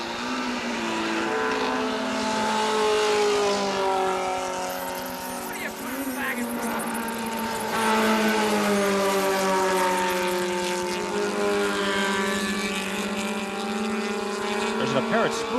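Race cars in a 1980 H Production road race driving through the S-curves, a loud continuous engine drone that rises and shifts in pitch, with an announcer talking over it.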